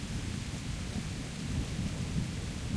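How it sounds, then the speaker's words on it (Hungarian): Steady rain with low rumbling thunder in the medieval game Kingdom Come: Deliverance, a continuous dense wash of rainfall over deep rolling rumble, moderately quiet and even throughout with no voices. "Addig nézzük ezt a fantasztikus ASMR esőt"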